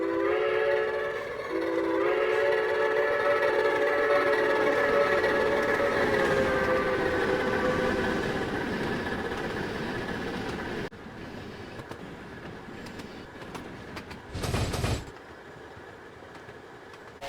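A long steam whistle blast from a coal train hauled by two USRA 2-8-2 steam locomotives sounds at moderate distance, a steady chord that shifts slightly, then cuts off as rumbling rail noise continues.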